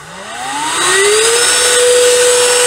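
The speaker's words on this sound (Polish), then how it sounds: "Odkurzacz nam pracuje." A Ryobi RDC18 cordless washing vacuum cleaner switches on, its motor whine rising in pitch over the first second and then holding a steady, loud, continuous drone.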